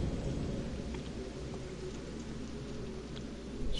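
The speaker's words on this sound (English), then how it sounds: "It's raining." Steady video game rain, from Fatal Frame: Maiden of Black Water, hisses softly in the background, a constant wash of patter without distinct drops or thunder.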